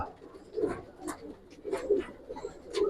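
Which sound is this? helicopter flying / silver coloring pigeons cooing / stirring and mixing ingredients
silver coloring pigeons cooing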